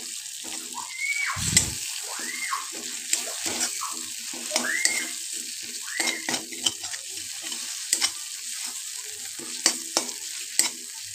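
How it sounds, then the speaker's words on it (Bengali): A metal spatula stirs frying spices for egg korma in a pan, producing repeated scrapes and gentle sizzling with one heavier clatter early on. Faint sliding whistle-like tones run through the background. "এবার মশলাটাকে আবারও একটু খুন্তির সাহায্যে ভালো করে নাড়িয়ে নেব।"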